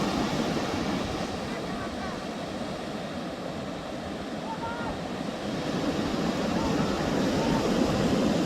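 Rough monsoon surf at Patuartek beach near Inani, Cox's Bazar: a continuous crashing roar of waves with wind buffeting the microphone, swelling toward the end, and a voice speaking over it.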